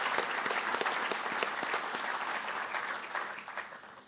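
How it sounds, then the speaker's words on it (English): A crowd at a police academy graduation ceremony in Virginia Beach claps warmly for the graduates, continuous dense applause at full strength that gradually thins and fades toward the end. "So please, let's give each and every one of you a round of applause"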